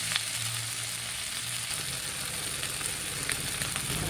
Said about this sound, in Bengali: আদা রসুনটা দিয়ে আমি ভালো করে কষিয়ে নেবো যাতে আদা রসুনের গন্ধটা না থাকে